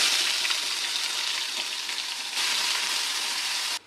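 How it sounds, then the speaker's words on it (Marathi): Cumin paste dropped into hot oil for chole, giving a loud, steady sizzle and frying hiss that lasts nearly four seconds before cutting off abruptly. "आता तेल गरम झालं, जिऱ्याचं वाटण आपण बनवलं होतं ते यात टाकू."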